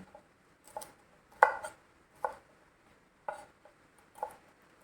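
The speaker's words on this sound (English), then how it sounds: "Capsicum I have washed, cleaned and kept, and we'll cut diamond." Capsicum being cut into diamond pieces with a knife on a cutting board, about half a dozen crisp, separate chops spaced unevenly and heard up close, with quiet pauses between strokes.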